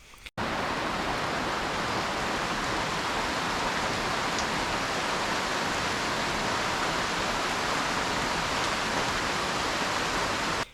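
Steady, dense rainforest rainfall in Tortuguero National Park, Costa Rica, pours down continuously, a loud even hiss of drops with no voices, holding constant from start to finish.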